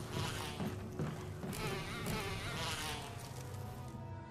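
Bees in Resident Evil on PS4 make a close, continuous insect buzz that hums and whines as the swarm moves, fairly quiet, with no talking over it.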